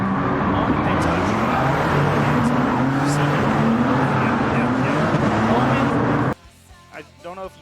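A race car in a sim racing game roars at high speed with a steady, loud engine drone that cuts off abruptly near the end, leaving a few brief, quieter sounds.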